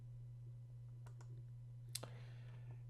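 A few sharp computer mouse clicks over a steady low electrical hum, spaced about a second apart with a pair close together near the end, made while working in Microsoft Access.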